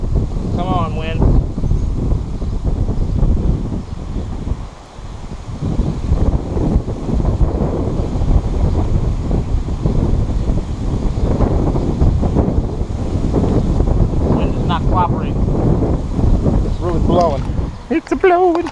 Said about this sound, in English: Come on, wind.